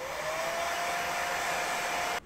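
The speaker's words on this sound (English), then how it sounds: "I recommend taking a little bit of a hair dryer to speed it up a bit." A hair dryer blows steadily at close range while making foam shoulder armor, a constant whooshing roar with a faint whine, stopping abruptly at the end.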